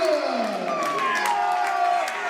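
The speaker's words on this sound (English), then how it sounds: "And the massive round of applause for this opponent this evening, Nolan McCormack!" A large crowd at a Muay Thai fight cheers and claps in a big venue for a fighter's introduction, a roaring wash of voices with a falling tone sweeping through.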